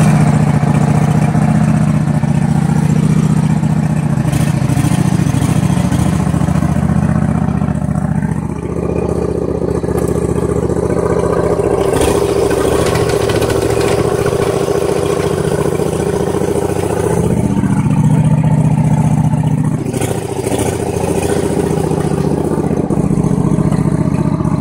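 A Craftsman riding mower engine with a faulty transaxle runs steadily and loudly throughout, a continuous low drone with slight shifts in pitch and load and no talking.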